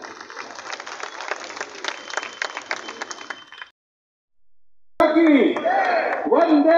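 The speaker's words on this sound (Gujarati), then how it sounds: "મિત્રો તાળીઓ ચાલુ રાખજો." Audience applause at a Maninagar assembly constituency opening ceremony, dense clapping for about three and a half seconds, then a silent gap, then a loud mix of crowd noise and music-like tones.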